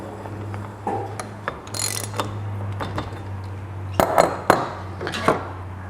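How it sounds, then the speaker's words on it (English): Ratchet tightening the fork cap on a WP 4CS motorcycle fork during a service, with a steady low hum beneath and bursts of clicking and metallic clinks, loudest near the end. "Tighten the fork cap down."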